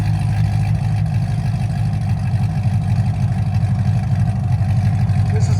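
A 2008 Chevy Corvette Z06 with a 7.0L V8, Kooks headers and shotgun cat-back exhaust with valves open idles loudly and close, a deep steady throbbing rumble.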